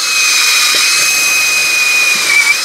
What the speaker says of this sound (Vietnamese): Đây, khoan xuyên cái giò luôn nè.